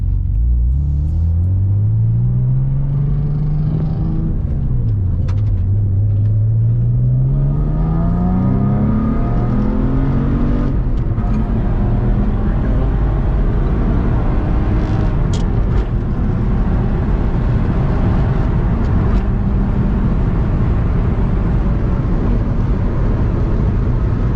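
A Subaru SVX with a manual transmission is driven while totaled, its engine rumbling loudly, rising and falling in revs through the gear changes, then settling into a steady heavy drone.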